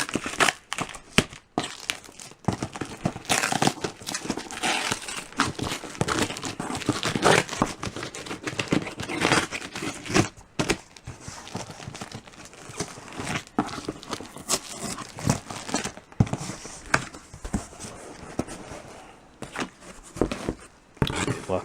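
Tearing open the packaging of a new System 11 pinball board packed in packing peanuts: continuous crinkling, rustling and crunching of plastic and foam, with sharp rips and tears, close and busy throughout.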